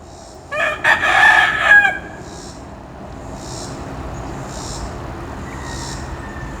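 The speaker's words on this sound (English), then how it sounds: "He took up here. Sing it, buddy." A rooster in a yard gives one loud, close crow lasting about a second and a half, followed by quiet outdoor ambience with faint, distant bird calls.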